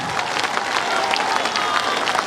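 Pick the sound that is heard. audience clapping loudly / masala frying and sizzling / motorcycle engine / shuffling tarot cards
audience clapping loudly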